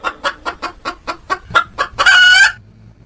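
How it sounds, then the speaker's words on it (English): A hen clucks in a quick run of about ten short, evenly spaced calls, then ends on a louder drawn-out squawk, close and clear with no talk. "H for hen."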